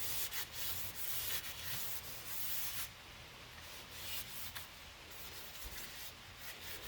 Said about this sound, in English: I'll take the Brillo pad and then I'll just wipe it down